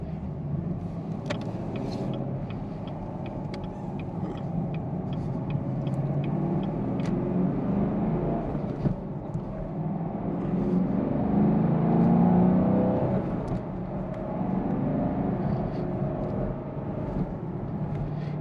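Chevrolet Camaro LT1 with a V8 and six-speed manual gearbox driving on the road, a steady low engine rumble from inside the cabin that swells briefly as it pulls, with faint ticking noises.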